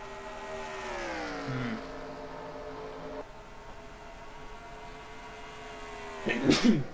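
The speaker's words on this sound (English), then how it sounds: "I know I'm sneezing." One short, sharp sneeze comes near the end over a steady, droning race-car engine from a NASCAR-style Cup Series race at the Shell 400.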